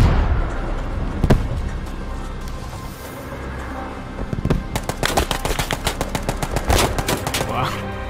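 Gunfire in a D-Day tank battle game crackles in scattered single shots, then breaks into rapid bursts of automatic fire over a low rumble, fairly close and loud.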